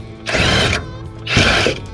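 A ratchet wrench turns a suspension nut loose on a frame-swapped Chevy C20, giving two close, loud bursts of rapid clicking separated by a short pause.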